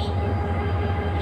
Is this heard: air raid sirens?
no